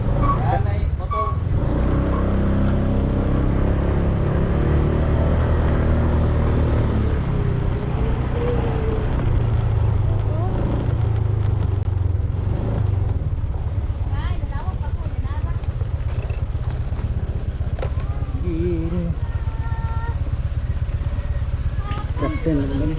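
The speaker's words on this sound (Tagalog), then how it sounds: "Yan ay motor." A motorcycle passing on a road during a Bukidnon to Surigao road trip, its engine rising and fading under steady road and vehicle rumble, with people talking over it.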